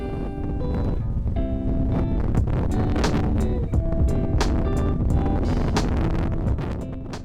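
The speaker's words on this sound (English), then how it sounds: "Well, I was not wrong about the wind. It was really whipping." Strong wind whips across a mountain trail at Loch Vale in Rocky Mountain National Park, roaring steadily and loudly against the microphone with low rumbling buffets for the whole stretch.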